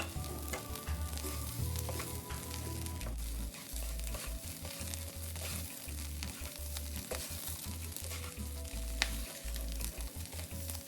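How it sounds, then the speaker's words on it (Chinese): Bamboo shoots and rice ingredients sizzle in a hot pan while a spatula scrapes and tosses them continuously during stir-frying. The sizzle is soft and steady, with no talking. "继续拌炒匀。"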